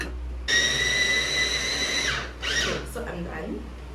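An electric food grinder whines loudly as it processes carrots and onions for siomai, running steadily for about a second and a half, then stuttering in short bursts before trailing off.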